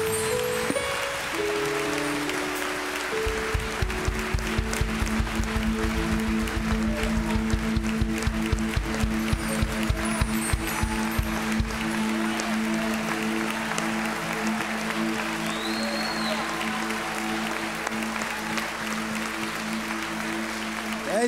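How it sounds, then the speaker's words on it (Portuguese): A church congregation claps steadily for a long stretch, with rhythmic bass thumps and sustained organ-like tones underneath, fading into lingering worship music. "Dê uma salva de palmas ao Senhor Jesus."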